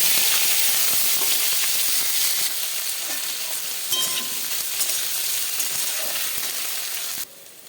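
Chopped onion and panch phoron hitting hot oil in a home kitchen, a loud, close crackling sizzle that settles into steady frying hiss with occasional stirring scrapes, then drops sharply in level at the end.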